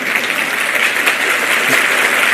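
Steady, dense audience applause fills a church sermon hall, loud and close, sustained without breaks.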